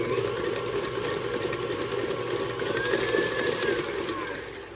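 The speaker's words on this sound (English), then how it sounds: "And then we're gonna whisk that." Carrot cake pie batter whisked with an electric mixer, a steady close motorized whir running throughout, loud and unbroken, with no talk.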